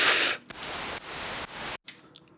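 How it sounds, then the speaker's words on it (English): A synthesizer oscillator produces a loud, flat layer of white noise, switched in sustained blocks with sharp cuts between them before dropping away to near silence. "And also I added some white noise, excuse me. Just oscillator."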